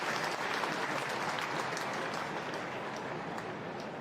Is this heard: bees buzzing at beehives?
no